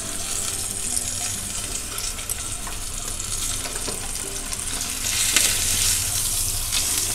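Stuffed pomfret fish shallow-fries in oil on a low flame, giving a dense, steady, close sizzle that swells slightly toward the end, with a few faint pan touches and no speech.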